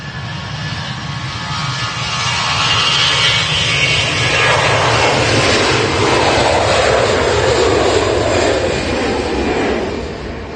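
A jet airplane passes at Manchester Airport in windy storm conditions, its loud engine roar swelling to a peak mid-clip and then easing off, with wind rumble running under the whole pass.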